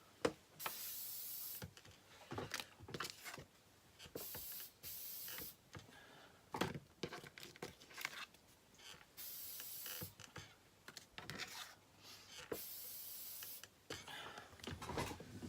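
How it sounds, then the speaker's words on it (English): Repeated short bursts of acrylic sealer spraying from an aerosol can, separated by pauses and rattles, fairly close and moderately quiet. "I'm just going to give them a quick spray with an acrylic sealer."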